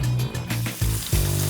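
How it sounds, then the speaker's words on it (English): Veal saltimbocca sizzles in hot butter fat in a pan, a steady close frying hiss with a few short pops. "The saltimbocca is fried in hot butter fat before being deglazed with white wine."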